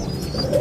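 A racing pigeon returning from a training race from San Jose lands at a loft in Tarlac, where a brief low coo sounds over the busy ambient noise of other birds.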